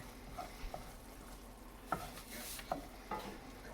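A spoon stirs flour into a thick roux for gumbo in a hot pot, soft scraping strokes and light clinks over a quiet sizzle, close and fairly faint with no talking.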